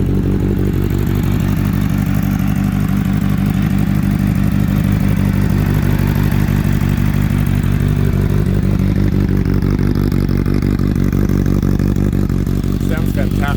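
A Suzuki Bandit 600 custom motorcycle engine runs with a steady, close, lumpy idle rumble and mechanical clatter, with a voice talking over it.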